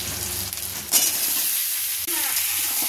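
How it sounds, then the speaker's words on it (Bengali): Chopped vegetables tossed into hot oil that already holds fried onions give a loud, steady sizzle, broken by a few scraping strokes of a spatula, close up, with no talk. "সবজিগুলো 5 মিনিট ভেজে নেব, তারপরে শাকটা দেব।"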